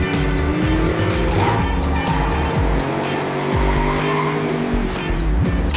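Animated cartoon race cars speeding in a friendly race, with loud engine roars and repeated tire squeals and skids, close and continuous.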